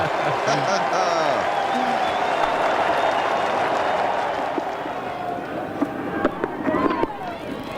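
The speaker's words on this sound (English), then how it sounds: "the crowd give him an enormous cheer here at Lancaster Park" A large cricket crowd cheers and applauds at Lancaster Park during the 1992 World Cup group match between Pakistan and New Zealand. The loud, dense roar holds steady, then fades slightly, with scattered claps and a voice heard briefly.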